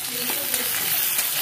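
Onion, garlic, green chili and cumin sautéing in oil for a dry fenugreek-potato dish give a steady close sizzle, with a couple of soft stirring scrapes and no voices.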